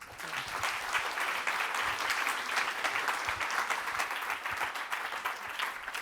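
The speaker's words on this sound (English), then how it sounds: "give a big applause to Sasha." An audience at a mathematics lecture claps for the lecturer, a steady, fairly quiet wash of many hands clapping continuously for several seconds, with no voices.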